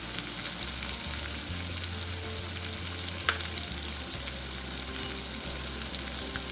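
Curry leaves, green chilli and onion sautéing in hot oil over a medium flame for a pumpkin bhaji, giving a steady, even sizzle close by with a few faint stirring clicks and no talk.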